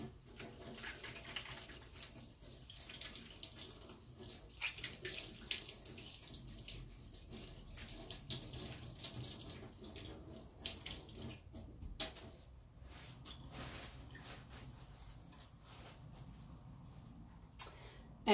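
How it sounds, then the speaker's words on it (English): Tap water runs steadily into a sink as hands are rinsed under the faucet, a continuous close splashing wash with small fluctuations throughout and no talking. "rinse my hands."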